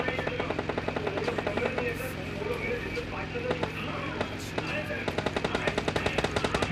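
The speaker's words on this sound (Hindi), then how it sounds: "तो यहाँ पर आपको फायरिंग का साउंड आ रहा होगा मिनी मैप में।" Gunfire from the mobile shooter PUBG Mobile Lite crackles in steady rapid strings throughout, over continuous game ambience, and sharpens into a denser close burst near the end.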